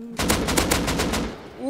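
Rapid gunfire in the survival game Rust during a PvP fight, a fast string of about eight loud, close shots in quick rhythm, with no talk over it.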